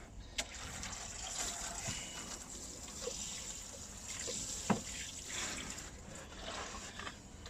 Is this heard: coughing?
no